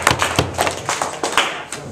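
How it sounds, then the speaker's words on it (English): A small school-shop audience gives a brief, sparse round of claps for a visiting school superintendent: a handful of separate, fairly close hand strikes at an uneven rhythm. "let's make him feel welcome by giving him a round of applause"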